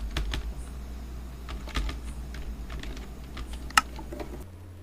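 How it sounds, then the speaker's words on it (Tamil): Someone types on a computer keyboard while using CorelDRAW graphic design software, producing scattered light key clicks at an uneven pace over a steady low hum, with one sharper tap near the end. "நான் graphics ன்னு சொல்லி டைப் பண்ணிக்கிறேன்."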